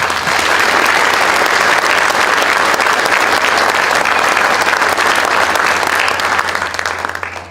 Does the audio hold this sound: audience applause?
yes